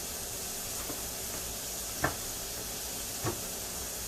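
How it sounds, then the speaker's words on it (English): Small rolled ground beef balls sizzling in a pan, a steady bright hiss throughout with a couple of faint clicks or pops. "Got my ground beef. I got them rolled up to little balls. Got that cooking."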